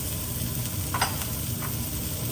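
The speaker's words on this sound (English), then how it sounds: "We're going to keep stirring the vegetables on high heat and cook it for about 2 minutes until the vegetables are softened." Carrots, corn and onions stir-frying in oil over high heat, with a steady loud sizzle broken by a few scraping stirs of the spatula, close up and with no voices.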